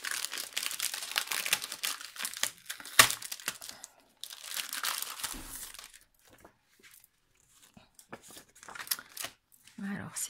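Crinkling and rustling of a paper pad being handled and opened, loud bursts of crisp crackling that come and go with short quiet gaps, close to the microphone, with occasional brief voice sounds.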